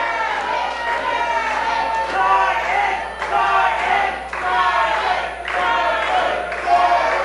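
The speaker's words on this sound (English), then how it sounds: "This Fight Society crowd rallying for Doe" Wrestling arena crowd at a Fight Society intergender tag match, cheering and rallying in loud, sustained waves of massed voices that swell and dip over several seconds.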